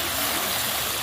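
Water poured into a cooking pot of red amaranth stems and spices, a brief continuous rushing splash, close and steady throughout.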